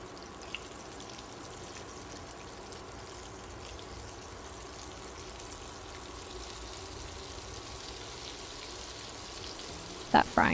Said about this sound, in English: That frying sound is so satisfying.